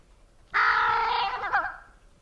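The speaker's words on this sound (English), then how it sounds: "you wouldn't expect a crow to be able to make a sound such as this" A single drawn-out, harsh, buzzing call from a crow, strange and nasal, lasting over a second before trailing off in a quiet setting.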